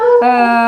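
A dog at an animal shelter lets out a loud, close, sustained howl that shifts pitch partway through.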